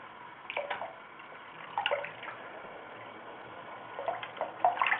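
A tap runs water over an Indian Ringneck parrot bathing beneath it, a soft, fairly faint steady flow broken by light splashes and drips.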